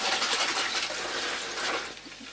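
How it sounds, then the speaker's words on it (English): Lukewarm water runs steadily from a tap for rinsing a vintage Hoover cloth vacuum bag, a continuous splashing flow that fades slightly toward the end. "lukewarm water"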